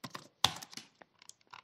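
Fingers tap a computer keyboard in a quick irregular burst of close, crisp keystrokes, entering Python code for a data analysis chart, with no talk.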